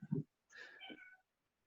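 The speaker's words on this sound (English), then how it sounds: "I heard a cat, but it might have been Kevin's cat" A cat meows once from close by, a drawn-out rising and falling call of about three-quarters of a second, just after a short burst of voice in an otherwise quiet room.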